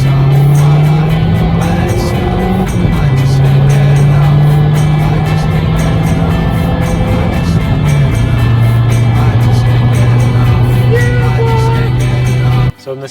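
A remapped Vauxhall Astra H VXR Mk5 accelerates hard, its engine drone loud and close, rising in pitch through gears with brief drops at shifts, then cutting off abruptly at the end.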